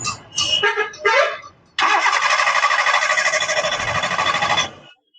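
A 2011 Maruti Suzuki Zen Estilo starter cranking for about three seconds without the engine catching, a steady whirring grind that stops abruptly, preceded by a few short knocks or taps.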